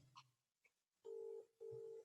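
Telephone dialing tones: two steady, loud beeps of equal length in quick succession after a couple of faint clicks, with no voices present.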